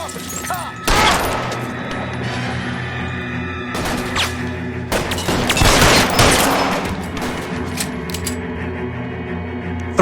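Heavy gunfire during a police shootout in L.A. Noire, with repeated close rifle and pistol shots and sharp rattling volleys over a steady background din.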